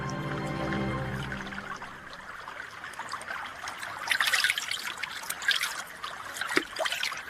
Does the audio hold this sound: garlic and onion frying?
no